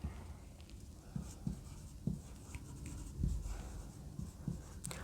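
Marker or chalk strokes scratch across a board during an anatomy lesson, coming in short, quiet bursts with pauses between them and no talk over them.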